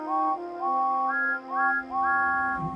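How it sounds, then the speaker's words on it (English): Toy train engine whistles from a Hornby or Bachmann model railway sound in a series of steady two-tone blasts, repeated four or five times in quick succession, clear and fairly close with no talking. "sounded their whistles as loudly as they could"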